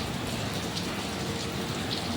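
Steady heavy rain pouring down, a dense continuous hiss of drops with no pauses and no voices.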